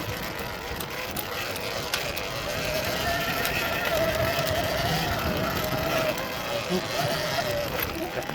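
A Surron Ultra Bee electric dirt bike rides a homemade dirt and mud track. A steady electric motor whine sits under heavy, continuous wind rush, close to the rider, with a muffled voice now and then.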